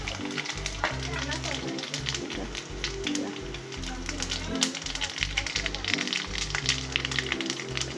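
Mustard seeds and cumin spluttering in hot oil with dry chillies, ginger, garlic and curry leaves, rapid crackling pops over a steady sizzle while someone talks over it.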